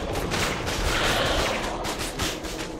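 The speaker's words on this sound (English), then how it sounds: "they shot him. Look at, he's got a gun!" Dense, sustained gunfire from a Spider-Man: Web of Shadows battle, a continuous loud barrage of shots and blasts with no clear gaps, filling the whole stretch.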